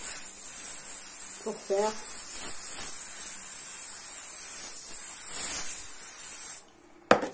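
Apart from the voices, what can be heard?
spray adhesive can being sprayed onto canvas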